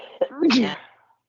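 A single sharp sneeze from a podcast host during a wrestling discussion, a quick intake followed by a loud voiced burst that trails off, close to the microphone.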